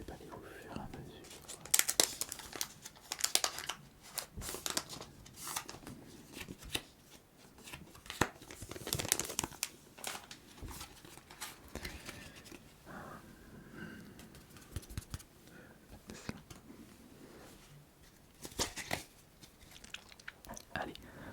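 Pokémon card booster packs are unwrapped up close in a soft ASMR setting, with crinkling foil, tearing and card handling in dense bursts while someone talks quietly.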